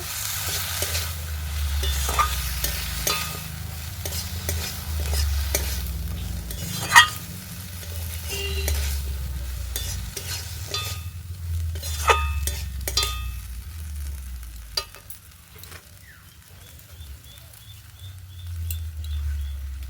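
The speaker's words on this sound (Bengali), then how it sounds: "ধুয়ে রাখা আলু বেগুন ভালো করে কষিয়ে নেব" Washed potatoes and eggplant being stir-fried in a pan for a crab curry, with a continuous sizzle, repeated spatula scraping and clinks, and a low rumble from the stove throughout.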